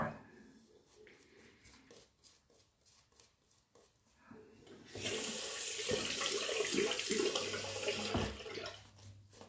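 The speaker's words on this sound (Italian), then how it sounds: "Vado ad aggiungere anche un po' d'acqua," Water runs from a tap to wet shaving soap. Quiet handling noises come first, then the loud, steady gush of the running faucet takes over midway and keeps going close by.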